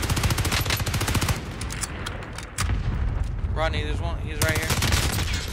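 Rapid automatic gunfire from a Warzone 2 firefight, with loud bursts in the first half, a short lull and then renewed shooting, while players talk over it.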